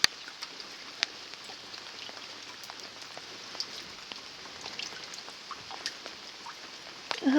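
Rain falls in a steady, faint, hissing patter, with scattered sharper drops ticking through the wash of sound and no voices.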